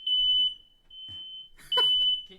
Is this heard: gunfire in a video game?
no